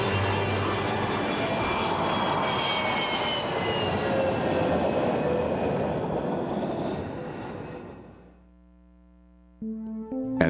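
A Northrop YF-23 jet roars loudly and steadily for about eight seconds, its engine noise with whining tones fading away, followed by near silence and faint background sounds.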